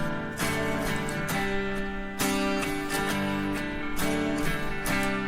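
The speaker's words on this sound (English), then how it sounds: "now both guitars together." Two guitars playing together in a mix of a song, with saturation, parametric EQ and reverb: strummed chords with regular attacks roughly every second, full and steady, no voices.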